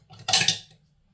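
A metal lid prised off a chilli con carne tin gives a single brief scraping, clinking metallic rasp lasting under half a second, close and fairly loud, with no voices.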